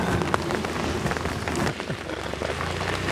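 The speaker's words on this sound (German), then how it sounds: "Es regnet" Steady rain pours onto surfaces outdoors on a grey morning, a dense continuous patter with scattered louder drops, close and even throughout, with no voices.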